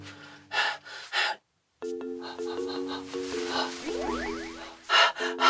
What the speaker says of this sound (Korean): 그런 거 넣어야 되나? 숨소리.